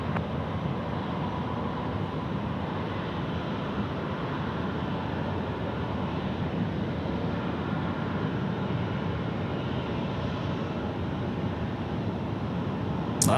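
An airliner takes off from runway 16 right at Sydney Airport, a loud, steady roar of jet engines that holds constant throughout with no talk over it.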